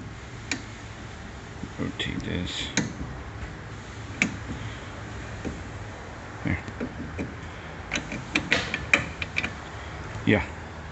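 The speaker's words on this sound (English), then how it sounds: "Holding the camera and turning a wrench." Wrench turning during a mobile radio installation, heard as a string of irregular ratcheting clicks and metallic ticks, fairly close, spread across the clip over a low background hum.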